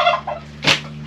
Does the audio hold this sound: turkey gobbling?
yes